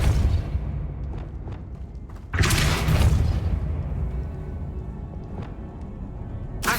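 Depulso spell impacts in Hogwarts Legacy, a loud sudden whooshing blast near the middle that fades out, with a smaller burst at the very end and quieter thumps before.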